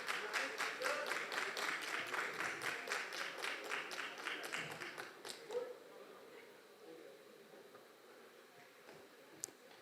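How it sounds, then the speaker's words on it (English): Audience applause at an awards ceremony honouring business leaders, a dense burst of clapping that starts loud, thins after about six seconds and fades to scattered claps. "Let's give them a huge round of applause"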